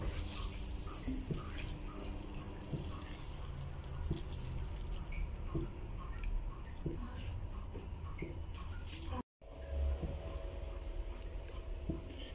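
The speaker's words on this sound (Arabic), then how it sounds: "غادي نزيد عليها الماء" Water poured into a new clay tagine being seasoned before first use, a steady trickling and splashing with drips, under a voice, with a brief dropout near the end.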